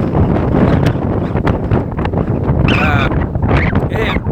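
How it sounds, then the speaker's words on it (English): Strong wind buffets the microphone in heavy, rumbling gusts that stay loud throughout, with a voice speaking briefly over it. "It's a windy day here."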